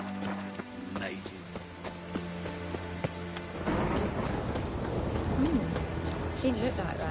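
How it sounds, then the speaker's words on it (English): Steady rain falls heavily with a broad hiss, joined by rumbling thunder, while people talk over the downpour. "Oh, rain again."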